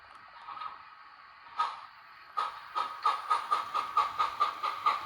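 An HO scale model Southern Pacific GS-4 steam locomotive chuffs in a steady, quickening rhythm of sharp hissing puffs, close by, after a few scattered bursts of steam.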